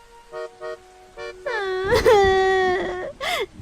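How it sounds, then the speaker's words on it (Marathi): A boy wails and sobs loudly in a storytelling scene, with short whimpering bursts building into long, rising and falling cries close to the listener. "हे बघून सोनू जोर जोरात रडायला लागला"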